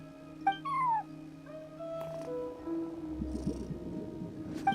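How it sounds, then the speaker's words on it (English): Meowing from a cat in Genshin Impact, a few short, rising and falling calls early on, followed by a steady in-game ambient hum with light clatter. "No one except for a cat watching over the front desk."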